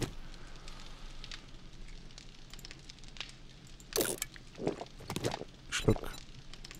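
A campfire crackles in the survival game 7 Days to Die, a low steady burning bed with several sharp pops and snaps in the latter half, while someone talks over it.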